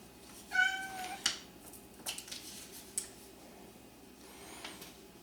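A cat meows clearly nearby, one distinct meow followed by a fainter second one, with small tapping and rustling sounds in a quiet room.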